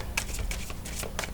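Tarot cards are shuffled by hand in a few quick riffling bursts, close and crisp, with no talking over them.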